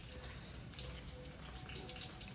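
Water runs steadily into a container of buckwheat flour dough mix, a faint, continuous splashing pour heard alone and close.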